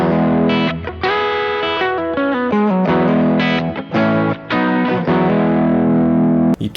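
Loud overdriven chords and short melodic runs ring out from an Enya Inspire smart guitar, bridge pickup switched to parallel mode, processed through distortion and chorus effects with no speech over it.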